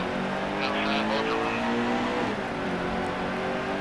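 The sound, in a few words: race cars starting a race in video game NASCAR Heat 2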